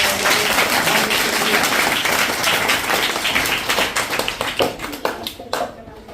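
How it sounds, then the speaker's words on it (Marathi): Loud sustained applause from a school audience welcoming guests who came to distribute sweets to students, dense clapping that thins into scattered claps near the end, with some voices underneath. "आपण जोरदार टाळ्या वाजवून त्यांचा"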